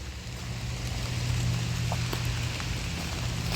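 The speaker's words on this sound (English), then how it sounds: "It's a rainy day here, Northeast Ohio." Rain falls by a creek in Northeast Ohio, a steady broadband hiss with a low rushing undertone of flowing water, continuous and close, with no voices.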